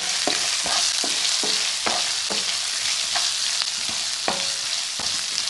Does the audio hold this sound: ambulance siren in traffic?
no